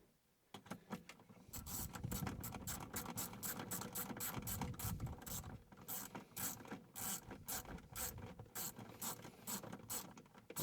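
Nut being fastened back down on a stud during an HA-5 transponder installation, heard as a run of close, rapid ratcheting clicks and metallic rubbing in irregular bursts.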